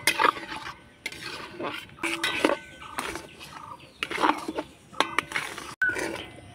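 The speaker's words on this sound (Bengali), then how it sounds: "ঘিটা দিয়ে ভালো করে নাড়াচাড়া করে একটা ডোয়ে পরিণত করে নেব" Semolina and ghee stirred into a dough in a pan over medium heat for Sitabhog sweets, with repeated scraping and clattering strokes of a spoon against the metal, close and fairly loud.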